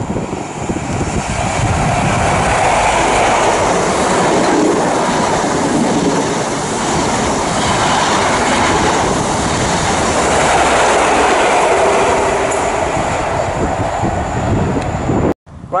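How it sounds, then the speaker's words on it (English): An HST high speed train passes through Patchway station in the late evening, a loud, close, continuous rumble and rush lasting throughout before cutting off abruptly at the end. "Right, about to pass through now is going to be a HST."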